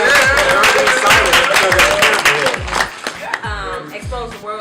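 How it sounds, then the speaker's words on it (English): Audience applause at a live interview event, a crowd clapping steadily and loudly for several seconds, with cheering voices mixed in and the clapping thinning toward the end. "Y'all can clap for that."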